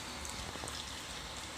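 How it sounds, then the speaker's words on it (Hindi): Heavy, steady rain pouring down outdoors, a dense broadband hiss that fills the whole clip at an even level with no voices. "यहाँ पे बहुत ज़बरदस्त बारिश हो रही है दोस्तों"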